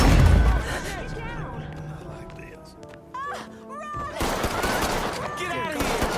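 Gunfire from the video game Mafia 3, bursts of shots and impacts mixed with shouting voices and game sound effects, loud and chaotic, with a heavy volley near the end.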